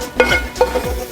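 Grated coconut roasting in a hot pan while being stirred, a low dry sizzle punctuated by a few distinct scraping strokes of the spatula, close and without talk.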